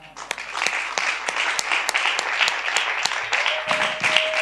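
Church congregation applauding and cheering to welcome a newcomer, a steady wash of clapping with sharp individual claps standing out and a brief whistle or high cheer near the end, no speech over it.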